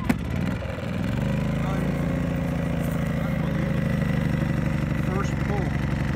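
A brand-new Powerhorse 2000-watt gas inverter generator fires up on the first pull and settles into a steady, close mid-pitched engine hum that runs evenly to the end.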